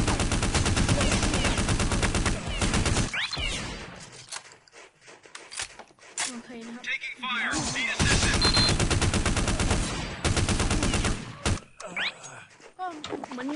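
Rapid bursts of gunfire from a shooting video game, loud and dense at the start, then scattered shots and thuds amid game sounds with a player talking over them.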